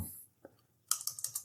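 A couple of isolated keystrokes, then a quick run of about five crisp clicks on a computer keyboard used with an old MS-DOS PC, close and fairly faint, with no speech.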